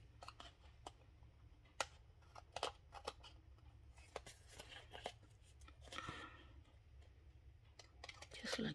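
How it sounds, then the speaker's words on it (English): Scissors snip through a paper strip in a quiet craft setting, with a series of sharp, crisp cuts spread irregularly, closer and busier toward the end, with soft handling rustle between. "And now I cut again."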